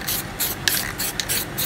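A spray paint can, used for spray paint art, releases a series of short, loud, airy hisses in an even on-off rhythm, about six bursts in quick succession.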